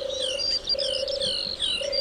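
Small songbirds, including Dartford warblers, give quick scratchy chirps and twitters in gorse, broom and bramble scrubland, set against a steady droning tone throughout.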